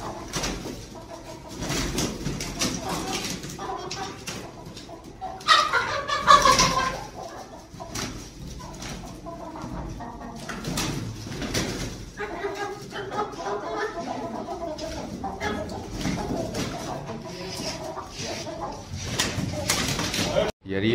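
Black chickens fighting in a mini zoo enclosure, with scattered clucks and squawks and a brief louder flurry of flapping and calls, heard under near-constant excited talk from people nearby.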